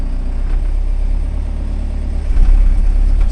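Tractor engine on a hayfield rumbling steadily at a low pitch, then swelling louder near the end as the throttle is raised, with no talk.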